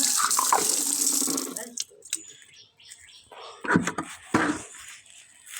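Water is poured and splashed while a pigeon's water container is changed, a close running, tap-like flow that stops partway, followed by a few separate splashes and sloshes with faint talk in between.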